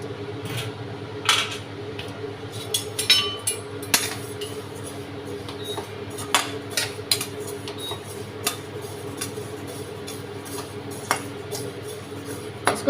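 Whole spices for a homemade churan dry-roasting in a pan, with scattered light clinks and scrapes as they are stirred, set against a steady low hum and no talking.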